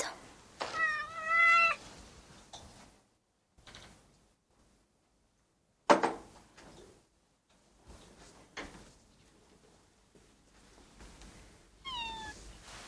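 A house cat meows in a few separate calls spread across quiet stretches, with a couple of soft knocks like a drawer or door between them.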